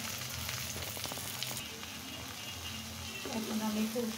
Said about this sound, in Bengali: এখন আমি খুব সুন্দর করে পেঁয়াজ, রসুন, কাঁচামরিচ, শুকনো মরিচ, হলুদ, লবণ সব একসাথে খুব সুন্দর করে একদম লাল লাল করে মুচমুচে করে ভেজে নেব।